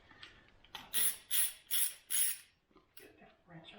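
A ratchet wrench with a 10mm socket works on the intake of a 2000 Acura 3.2TL during an intake gasket job, giving four quick, close, crisp clicking bursts in an even rhythm with softer handling noise afterward.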